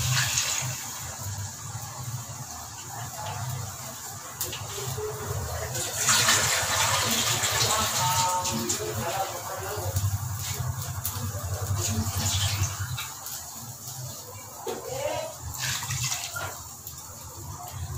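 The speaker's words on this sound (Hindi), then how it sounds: "अब इसमें पानी ऐड कर दें।" Water is poured from a tap into a half-kilo pot for chicken biryani, a steady close gushing and splashing that rises and falls in intensity over several seconds, with no talk.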